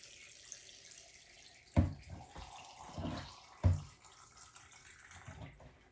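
Filtered water pours from a tap into a canning jar packed with green beans, a steady trickle with a couple of louder splashes and clinks as the jar fills, close and fairly quiet.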